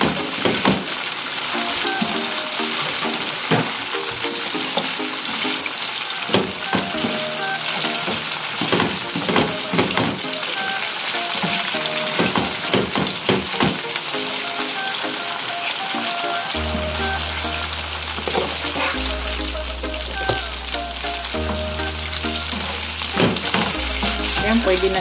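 Chicken pieces frying in a pan for Filipino salpicao, a steady loud sizzle with scattered pops and stirring clatter throughout, continuous with no talk over it.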